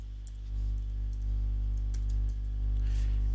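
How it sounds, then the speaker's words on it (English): A short run of close, crisp computer keyboard keystrokes entering a password, scattered clicks over a steady low electrical hum. "So let's go ahead and type in our password."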